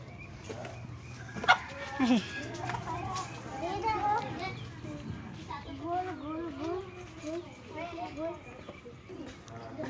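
A naked-neck chicken clucks in short, quiet bursts around a rural farmyard, mixed with distant children's voices and people talking, with a sharp louder call near the start.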